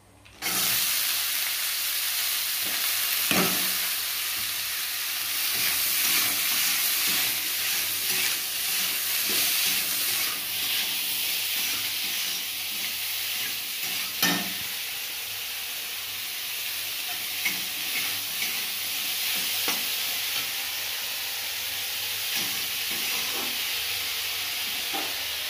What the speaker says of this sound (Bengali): আর হচ্ছে উচ্ছে ভাজবো গ্যাসে